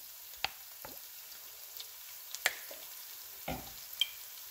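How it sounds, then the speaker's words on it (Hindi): Spices fry quietly in a pan for a chicken dish, with a soft sizzle and a few sharp stirring clinks and scrapes spread out over a few seconds, close and faint. "ये इधर हमारा जो है ये सारे स्पाइसेस जो है सो इसमें फ्राई हो चुके हैं"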